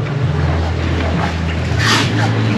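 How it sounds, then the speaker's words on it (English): A Suzuki Carry 4x4 mini truck's small three-cylinder engine hums and drones steadily up close as it drives through weeds in four-wheel drive, with rustling and brushing noise swelling briefly partway through. "I've been going through the weeds a little bit myself here in four-wheel drive."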